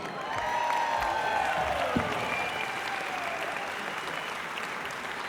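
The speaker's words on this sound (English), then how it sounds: "Give them another round of applause." A concert hall audience at a university symphony orchestra showcase concert applauds steadily, a dense, loud wash of clapping that holds level from start to finish.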